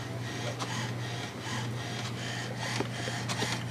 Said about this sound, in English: this is just going to print out a whole bunch of lines and stuff